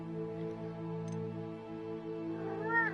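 A house cat meows with a drawn-out, rising call near the end, heard over a steady humming drone in the room with no speech.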